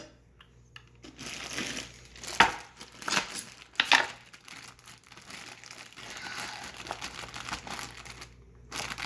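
Carrots are cut on a board in a home kitchen, giving scattered crisp knife chops and rustling, several sharp strikes close up, with uneven pauses between them.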